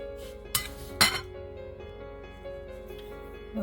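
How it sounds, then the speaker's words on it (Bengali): Spoon mixing sugar into fried flattened rice (chira), with two sharp metallic clinks early on and a soft scraping bed beneath, close by and with no voices. "চিনিটা দিয়ে দেব দেখো ভালো করে মিশিয়ে নিতে হবে"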